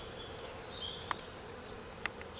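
Honey bees buzz around an opened hive while a frame is lifted out, a constant close hum with a few faint clicks and brief knocks over it.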